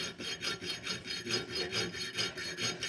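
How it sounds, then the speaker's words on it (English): A small hacksaw cuts thin-wall tubing with steady back-and-forth strokes, each rasping pass rising and falling in an even rhythm, close and clear with no talk. "I use my little hacksaw. This works really well on small tubes and also thin wall."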